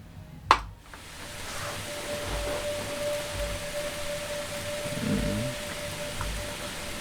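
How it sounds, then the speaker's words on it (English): Steady rain falls as a continuous soft hiss with occasional faint low thuds, after a single sharp click at the start, in a music video's rain ambience. "You got the rain ambiance"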